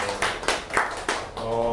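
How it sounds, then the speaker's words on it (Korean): A few scattered claps from a small audience opening a senior education lecture on ChatGPT and generative AI, four or five sharp separate slaps over quiet room tone, fairly faint and brief. "박수로 시작하겠습니다."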